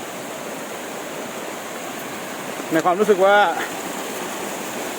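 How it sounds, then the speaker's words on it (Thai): A small, modest waterfall in a forest during the rainy season gives a steady, broadband rush of flowing water throughout, with a voice speaking briefly over it near the middle. "น้ำตก ไม่ใหญ่"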